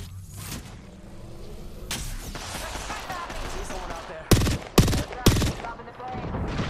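Gunfire in the Apex Legends game, a low rumbling battle bed broken by several sharp, loud bursts of shots, three close cracks in quick succession near the end.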